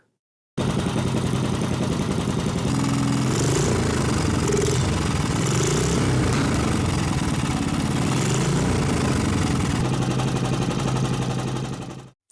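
A cheap flea-market Briggs & Stratton small gas engine runs steadily for about eleven seconds, a close, loud, continuous sputtering drone with no talk over it.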